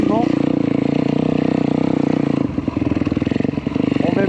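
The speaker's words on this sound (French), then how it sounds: "on laisse le moteur tourner tranquillement" A YCF 160 Daytona pit bike engine idles and runs gently during break-in, a close steady single-cylinder putter with a faster throbbing pulse near the end, while a person talks over it.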